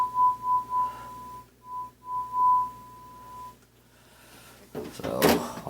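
A steady 1,000 hertz test tone plays through a Marantz 2230B receiver, a pure whistle that cuts out and resumes in short segments, followed by a clunky handling noise.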